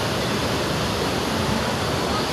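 Seawater and waves below a riverside spot make a loud, dense, unbroken rush of noise, with no gaps or separate splashes.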